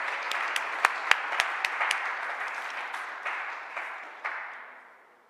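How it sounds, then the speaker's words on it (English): Audience applause for event sponsors at a sustainable entrepreneurship gathering, a steady wash of many hands clapping with a few sharp individual claps, gradually fading away over about five seconds. "Can we get a round of applause for all these sponsors supporting sustainable entrepreneurship?"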